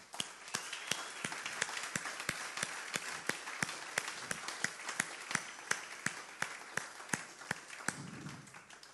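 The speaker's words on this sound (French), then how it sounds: "Qui se joint à moi pour faire une ovation à Jésus-Christ?" A church congregation gives Jesus Christ an ovation, its applause steady and fairly faint, with individual claps ringing out in a regular rhythm over a continuous wash of hands.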